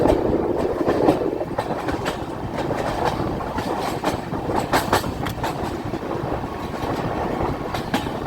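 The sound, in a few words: train with IRCTC WDP-4D diesel locomotive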